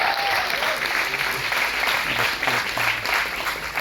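Audience applause at a live film trailer launch for Gustaakh Ishq, a dense, steady wash of clapping from a large crowd filling the whole moment without pause.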